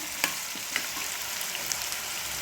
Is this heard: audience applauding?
no